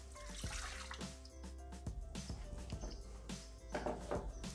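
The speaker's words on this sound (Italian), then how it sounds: "Iniziamo la ricetta mettendo all'interno del boccale l'acqua." Water is poured into the mixing bowl of a Thermomix (Bimby) kitchen machine while making stuffed focaccia, a faint trickle and splash with scattered clinks, close by and quiet, with no talking.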